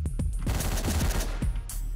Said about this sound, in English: didn't hear the gunshots